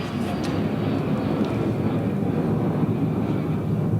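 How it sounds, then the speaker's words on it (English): An airplane flies overhead as a broad, steady roar that holds loud and even for the whole stretch, close and unbroken, with no voices over it. "there was an airplane going over the top"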